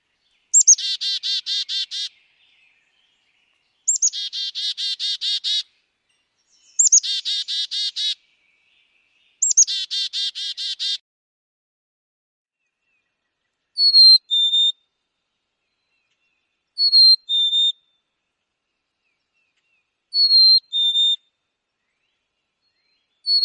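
Black-capped chickadee calls ring out clearly, four rapid buzzy chick-a-dee series followed by several clean two-note whistled fee-bee songs, spaced evenly and alone against silence.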